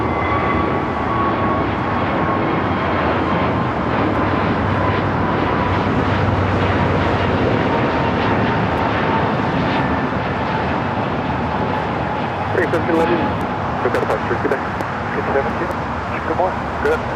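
An airliner takes off from runway 25 right at LAX, a loud, sustained roar of jet engines filling the air from a distance, with traffic-like rumble underneath and voices talking over it.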